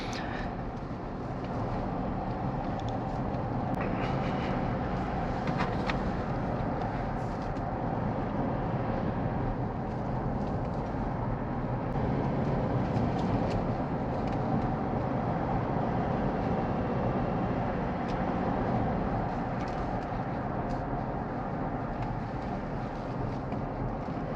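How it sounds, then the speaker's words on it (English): A steady, low rumbling drone from inside a GWM Cannon Alpha Lux pickup with a 2.4-litre diesel engine while driving, continuous and even throughout with no talking. "You are going to hear the diesel noise"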